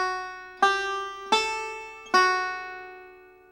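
A banjo plays a short lick from Blackberry Blossom, three bright plucked attacks that ring out and decay, near and alone with no talk.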